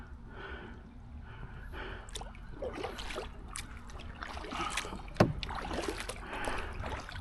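An Old Town Solo Sportsman canoe coasting over water on a first paddle, soft gurgling and lapping along the hull with faint paddle drips, close and continuous, one sharp knock near the end.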